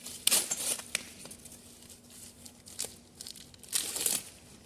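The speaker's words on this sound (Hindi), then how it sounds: "इसका भी पॉलीथीन उतार लेना है" Plastic polythene wrapping being peeled and crinkled off brush cutter parts and a rod, close and crisp, in a few quick rustling bursts with quieter handling between.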